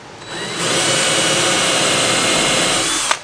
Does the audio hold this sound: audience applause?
no